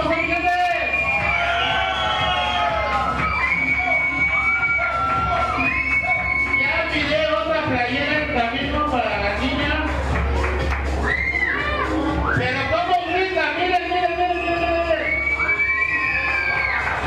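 A wrestling tournament crowd at a Grand Slam final roars and cheers steadily throughout, a dense mix of shouts, children's voices and babble whipped up by a crowd pumper, loud and continuous.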